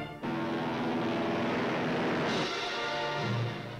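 Navy and Marine warplanes taking off in 1945 under heavy clouds, rain and snow, a loud sustained engine roar with propeller drone that swells and shifts partway through, steady and close throughout.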